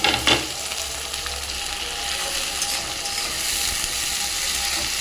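Onions and green chillies hit hot oil with whole spices for chicken kosa, setting off a loud, dense, continuous sizzle after a sharp initial splash, with no voices over it.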